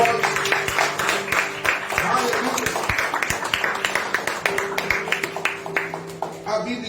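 A church congregation applauds while standing, a broad wash of many hands clapping steadily throughout, with a voice and a sustained tone carrying faintly underneath.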